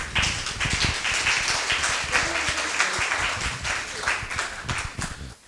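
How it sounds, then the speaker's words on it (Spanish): An audience applauding at a lecture on the health of older people in Uruguay, dense steady clapping from many hands that fades toward the end. "Lo aplaudimos."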